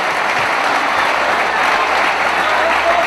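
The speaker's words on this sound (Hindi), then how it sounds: "एक बार मिलकर के तालियां बजा दो पीछे से।" An audience at a Hindi poetry recital (kavi sammelan) in Indore claps together, a dense, even wash of applause at steady loudness throughout.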